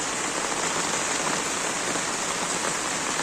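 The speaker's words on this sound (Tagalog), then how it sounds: "Grabe, ang lakas ng ulan dito sa" Heavy rain pours down in a dense, steady roar, a constant loud hiss of drops striking surfaces close by, with no voices.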